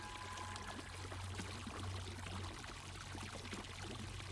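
Water rushes in a steady, pouring flow from a toilet being flushed in a video game, continuous and fairly faint, with a low hum underneath and no talking.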